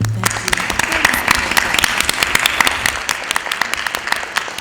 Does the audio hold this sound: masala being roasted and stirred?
no